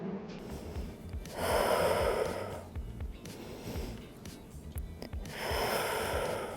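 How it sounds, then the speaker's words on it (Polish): Slow, audible breaths during a spine-lengthening stretching workout, long airy inhales and exhales rising and falling in two or three swells, close to the microphone and fairly quiet, with no talking. "Oddychamy"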